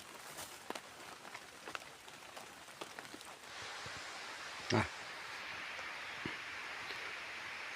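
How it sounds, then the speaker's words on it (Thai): Steady rain falls in a mountain forest, a soft continuous hiss of drops on leaves and ground that thickens halfway through, with scattered nearby taps and one brief louder knock. "เสียงฝนนะครับ"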